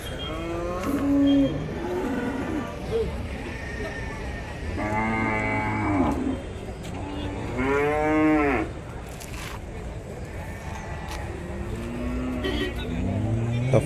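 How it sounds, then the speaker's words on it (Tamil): Cows and Kangayam calves call out at a Kunthirapalli cattle market, a few drawn-out moos spaced apart, medium distance, over a steady murmur of crowd noise and distant traffic. "பசுமாடுங்க."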